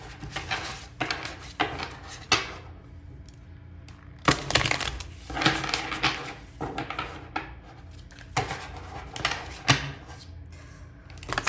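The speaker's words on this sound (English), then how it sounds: "I'll shuffle it a little bit on camera" A tarot card deck being shuffled by hand, several bursts of crisp riffling and slapping cards separated by brief pauses, close and moderately quiet with no talking.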